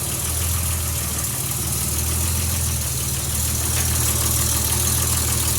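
A Nissan Z31 idles right after a turbo swap, a loud, steady, close engine drone with an even low-pitched throb and no voices over it.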